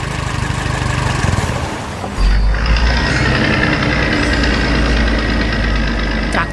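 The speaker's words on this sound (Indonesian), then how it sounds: "Traktor merah itu melaju di jalan berlumpur dengan kecepatan yang menyenangkan." Red tractor driving along a muddy road, its engine a loud steady rumbling knock that grows heavier after a short dip, with no talk.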